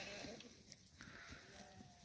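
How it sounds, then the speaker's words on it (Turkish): A female lamb, unwell, bleating among other ewe lambs on a livestock migration journey from Erzurum to Iğdır: faint, wavering bleats set back in a noisy outdoor background with broadband hiss. "Bu dişi kuzu da bizim dişi kuzu. Baya bir rahatsız ya."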